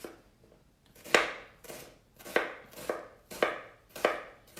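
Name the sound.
knife chopping an onion on a board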